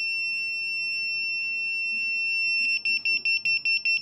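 A homemade Counter-Strike C4 bomb prop holds a steady high electronic tone, then shifts into a rapid, evenly spaced series of sharp beeps, loud and close over faint background noise.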